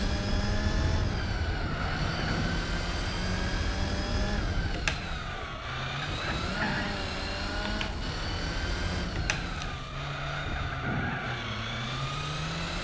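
Race car engine in Gran Turismo 4 drones and whines throughout, rising and falling in pitch with gear changes and repeated throttle lifts, loud and continuous.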